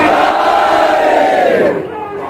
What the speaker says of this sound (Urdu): میرے ایک مرتبہ باہر سے بلند نعرہ لگائے, نعرہ حیدری